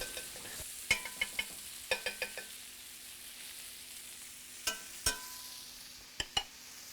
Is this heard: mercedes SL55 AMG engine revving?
no